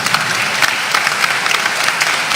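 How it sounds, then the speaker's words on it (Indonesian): Warm applause from a church gathering honoring two jubilarian priests, a steady crowd of clapping hands sustained and fairly close throughout with no talk over it. "Tepuk tangan untuk mereka."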